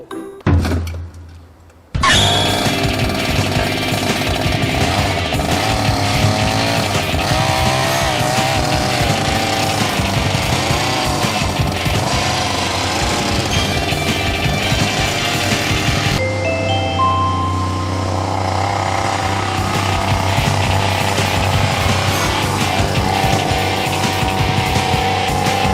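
A homemade Lamborghini runs steadily on a private circuit, its engine droning loud and close with a continuous whine after a quiet start and a sudden jump in level.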